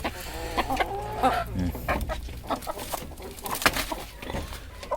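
Hill chickens and roosters cluck and squawk close by in a farm yard, a busy run of overlapping calls and short cackles with faint voices in the background.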